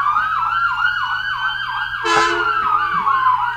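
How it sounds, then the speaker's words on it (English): An emergency vehicle siren passes nearby with a rapid yelping warble, loud and close, cut midway by a short horn-like blast before the wail continues. "I live next to a place with a lot of sirens."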